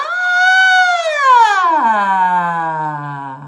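A single voice imitates a siren, sliding smoothly up in pitch and then sweeping down into a low, sustained tone, loud and close.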